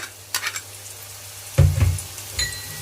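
Chili powder tipped onto lightly browned onions frying in a pan, a sudden burst of loud sizzling with scraping stirs, after several earlier clinks and stirs, close up and without speech.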